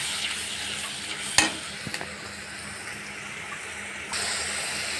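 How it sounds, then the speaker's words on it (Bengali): Ginger, garlic and cumin paste with water sautéing in oil in a pan for a surma fish curry: steady close sizzling and hissing, with a couple of sharp scraping stirs and a brief louder burst near the end. "সুন্দর করে মশলাটা কষাই নিয়েছি। তেল বের হয়ে গেছে, জলটা শুকিয়ে তেল বের হয়েছে।"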